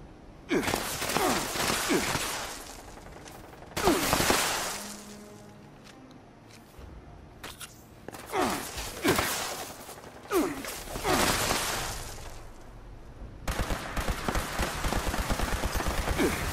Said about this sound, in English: I didn't mean for them fireworks to scare you.